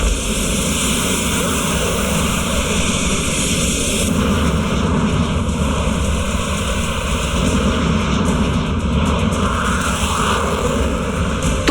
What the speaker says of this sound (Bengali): এবারে আমি এই বিমানের গতি বাড়িয়ে দেব, তারপর দেখব তুমি এই বিমানের থেকে জোরে উঠতে পারো